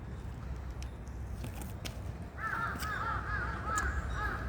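Crow cawing in a series of repeated harsh calls from the second half onward, fairly close and clear over a steady low outdoor rumble, no voices.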